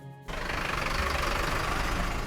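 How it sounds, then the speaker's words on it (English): An engine switches on abruptly after a brief quieter moment and then runs at a steady, deep, low-pitched roar, loud and continuous with no voices over it. "However, the sound of this engine"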